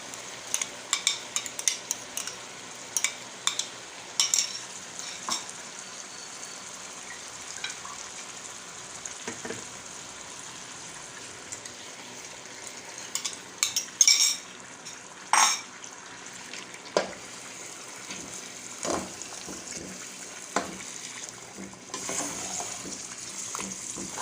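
Chicken fries in a pan with ginger, garlic and ground masala, a steady soft sizzle broken by irregular scraping stir strokes and occasional wetter splashes, close and without talk.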